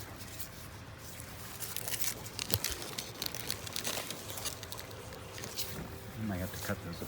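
Fibrous crackling and tearing as Musa basjoo banana plant clumps are pulled apart by hand, with crinkly snaps and squishy bursts rising through the middle and end, heard close with a voice talking over parts.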